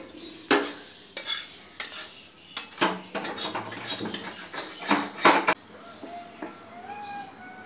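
A whisk beats a batter of gram flour, rice flour and salt in a bowl, giving a run of close, fairly loud scraping taps and clinks in an uneven rhythm. The whisking stops near the end, leaving faint background sounds.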